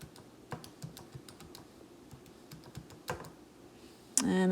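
Quiet, irregular clicks of small buttons being pressed one after another, close up, followed by a sudden louder noise at the very end.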